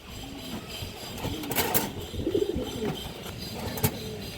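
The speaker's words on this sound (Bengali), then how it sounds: "লাল চুল্লি রোড লাইনের কবুতর" Lal Chulli pigeons at a pigeon sale coo softly and repeatedly nearby, with low throaty calls over faint background noise and a few sharp knocks.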